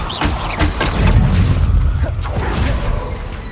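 Stupefy spell cast and striking its target in Hogwarts Legacy combat, a heavy booming impact near the start followed by a rumbling roll and a few smaller thuds, loud and close amid busy fight noise.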